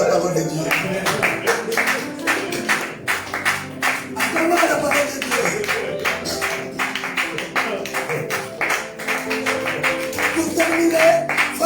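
A church congregation applauding, steady rhythmic clapping from many hands that rises and dips in waves, with some voices and singing underneath.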